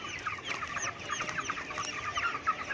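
A dense chorus of about six thousand chickens in a poultry farm house clucking and murmuring continuously, filling the enclosed space with a busy, overlapping chatter.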